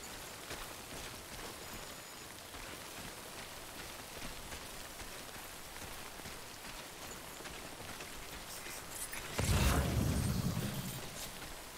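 Toxic rain falls in Death Stranding, a soft steady patter and hiss throughout, with a louder rumbling gust or burst swelling near the end.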